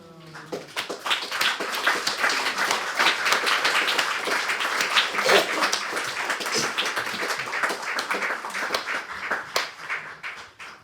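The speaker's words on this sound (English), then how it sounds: "Just receive everyone's applause again." Audience applause at a Seattle memorial poetry reading for Marvin Bell, a dense crowd of clapping hands rising quickly and holding steady and loud for about ten seconds, with no voices over it.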